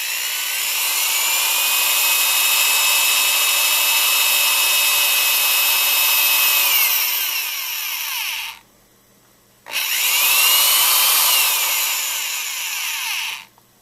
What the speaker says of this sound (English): I'm just going to hold this and very slowly drill into the center.